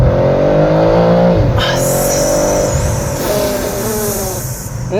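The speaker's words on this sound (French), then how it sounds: "Mais elle met une vitesse au RS4." An Audi RS4 accelerates hard, heard up close and loud. The engine note climbs, drops sharply at a gear change, then rises again as it pulls through the next gear.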